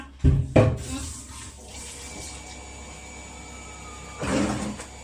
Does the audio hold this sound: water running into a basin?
yes